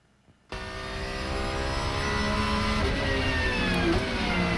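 A race car testing on track at Sebring International Raceway in Florida, its engine bursting in loud and close after a moment of quiet, then holding a high, rising whine as it accelerates past.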